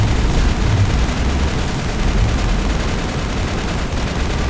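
Dense, relentless gunfire from a powerful weapon in the Mass Effect game during the assault on Saren's base, loud and continuous with no pauses, forming a roaring wall of shots.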